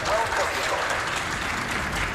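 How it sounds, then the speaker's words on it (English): An audience at a Games Done Quick speedrunning event gives a round of applause, a steady wash of clapping heard at moderate distance and lasting the whole moment without pause. "Can we get a round of applause, please?"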